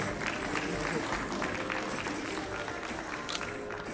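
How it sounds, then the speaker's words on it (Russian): Applause from an audience at a bodyfitness competition, a dense patter of clapping for a contestant with voices mixed in throughout. "Аплодисменты участницы."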